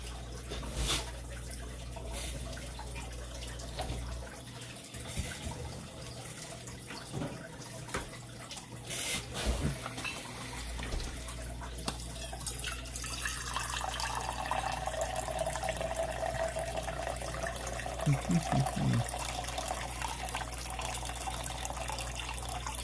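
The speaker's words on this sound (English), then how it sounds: "Filling up my cup with a bunch of water because I drink a lot of water." Tap water runs into a cup, a steady hiss of flowing water under a constant low electrical hum, with the pitch of the stream rising slightly as the cup fills, no voices.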